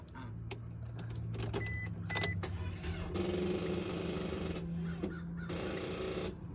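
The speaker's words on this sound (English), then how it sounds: "So I believe the alternator has died." A car with a dead original alternator makes a rough, continuous mechanical whine and rattle close by, with a steady noisy drone and shifting tonal squeals throughout.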